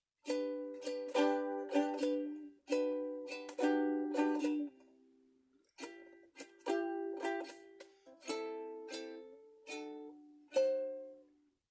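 A plucked ukulele plays a gentle, lilting melody with strummed chords, phrases separated by short pauses, clear and close with no voices.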